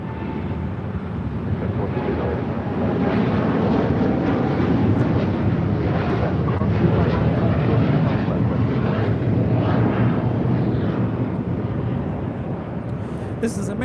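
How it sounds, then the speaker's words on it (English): An American Airlines Boeing 787-8 Dreamliner takes off at LAX, its jet engines a sustained broad roar that swells and holds steady across the whole stretch, with a voice talking over it. "This is American Airlines Flight 27 taking off to Tokyo Haneda on a 787-8 Dreamliner."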